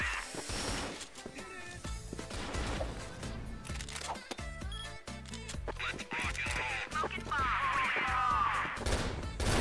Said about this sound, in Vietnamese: Ui tiếng súng ở hành lang này